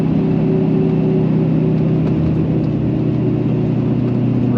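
A truck engine drones steadily as it climbs a hill in 4th gear lockup, a loud, constant mid-pitched hum with a whirring tone and no talking.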